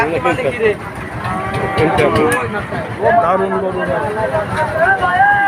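Cows moo repeatedly at the busy Chuknagar cattle market, with several drawn-out calls, some near and some farther off, mixed with people talking and a general crowd murmur.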